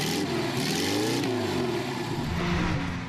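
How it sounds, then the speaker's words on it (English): A supercharged Volkswagen engine with a compressor revs up and down, a rich, steady mid-pitched drone rising and falling in pitch, continuous and close, with no voices over it. "it certainly did give the engine a richer sound."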